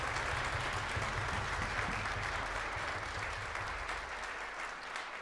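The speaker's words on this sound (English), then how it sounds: "Let's give the band directors a round of applause for everything they do" Concert audience applauding band directors at a final band showcase concert, steady, dense clapping from a large crowd that holds throughout and fades only slightly toward the end.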